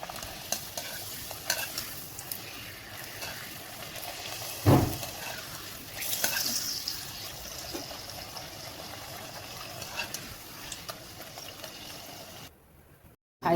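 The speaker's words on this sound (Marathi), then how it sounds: "अशा आपण सर्व पुऱ्या तळून घ्यायच्या आहेत." Spinach puris deep-fry in oil over a low flame, giving a steady, close bubbling sizzle that runs throughout with a few louder spatters and stirring noises.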